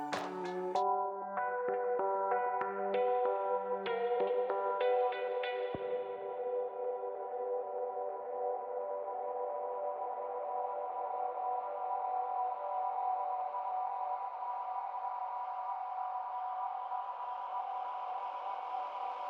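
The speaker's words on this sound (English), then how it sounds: "I've found a way to sculpt the echo such that it doesn't really sound like a delay and functions more as a texture or sound effect" Vocal line washed into a sculpted delay echo tail, with a few distinct sung notes at the start dissolving into a soft, sustained, smeared texture that lingers quietly on its own.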